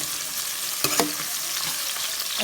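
Garlic frying in a pan for a pork roast gives a steady, close crackling sizzle, with a couple of sharp stirring clicks around the middle and no voices.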